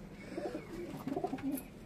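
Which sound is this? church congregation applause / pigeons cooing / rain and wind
pigeons cooing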